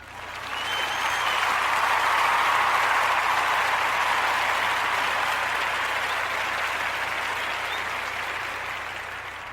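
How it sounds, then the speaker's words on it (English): A crowd gives a sustained round of applause, swelling quickly to a loud, dense roar of clapping that holds steady and then eases slightly toward the end, with no talking over it. "Let's give them a round of applause and congratulations."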